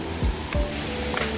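Heebang waterfall, about 28 m high in a forested valley on Sobaeksan, roars as a loud, steady wash of rushing water, with a couple of low thumps near the start.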